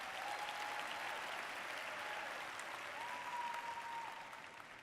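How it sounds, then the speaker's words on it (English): Steady audience applause at a 5LINX training event, a continuous wash of many hands clapping at even strength that eases off slightly near the end. "So please give yourselves a round of applause."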